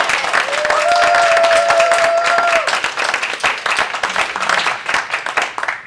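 Contest speakers receive a burst of audience applause, dense clapping that starts loud and gradually thins into scattered claps, with a faint whistle-like tone early on.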